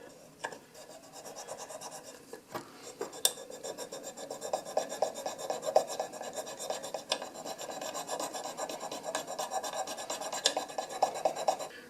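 Repeated rasping strokes of a trigger track file on titanium, close and rhythmic, growing steadier and louder, with no speech, during 1911 pistol barrel fitting.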